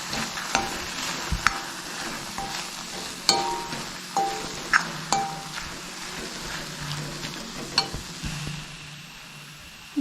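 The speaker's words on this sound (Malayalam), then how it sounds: "ഇനി ഇതിലേക്ക് നമുക്ക് ഫ്രഷ് ചെയ്ത് വെച്ചിരിക്കുന്ന തേങ്ങയൊക്കെ ചേർത്ത് കൊടുക്കാം നന്നായിട്ടൊന്ന് മിക്സ് ചെയ്ത് കൊടുക്കാം" Fresh grated coconut being stirred into a jackfruit seed and banana flower dish in a pan, a low sizzle under rhythmic spoon scrapes and occasional sharp metallic taps, no talking.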